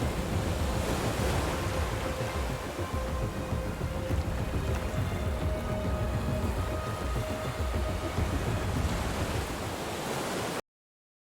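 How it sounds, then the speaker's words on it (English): Sea water crashing down as a sound effect, a dense, continuous roaring surge of surf and wind that stays loud throughout, then cuts off abruptly. "And the sea fell."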